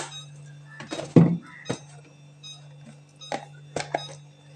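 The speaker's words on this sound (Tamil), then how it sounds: "எங்கள் வீட்டு ஃப்ரிட்ஜு வந்து ஓப்பன் பண்ணி வச்சுருந்தா அந்த மாதிரி சவுண்டு கேட்கும்." Home refrigerator with its door left open gives a faint alarm tone, with several short beeps and clinks spaced irregularly over a low steady hum, no voice.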